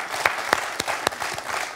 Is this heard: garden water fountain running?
no